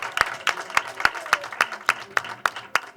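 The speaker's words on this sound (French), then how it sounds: "Applaudissez très fort pour lui." Audience at an educational contest clapping for a candidate, about ten sharp, evenly spaced claps in a steady rhythm, close and moderately loud, like a group clapping in unison.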